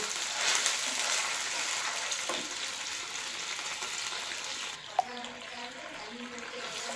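Vinegar and soy sauce are stirred in a frying pan for a mirch paneer dish. A steady, close hiss of sizzling runs throughout, with a faint clink near the end.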